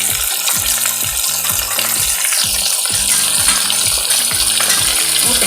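Onions sizzling and frying in a hot pan for a chilli soybean dish, a loud continuous crackle with rhythmic scraping of stirring throughout.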